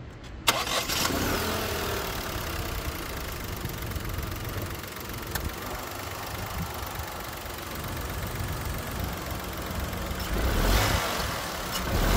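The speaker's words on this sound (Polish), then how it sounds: "Po odpaleniu na zimno brzydko pracuje, a auto wpada w lekkie wibracje." Mitsubishi Colt 1.0 turbo three-cylinder engine running rough just after a cold start, a steady lumpy idle with uneven thrumming and faint rattles, moderately close and continuous throughout.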